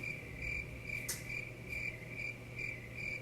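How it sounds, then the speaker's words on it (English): Crickets chirp in a steady, regular pulse, faint and alone against a quiet background. "Crickets."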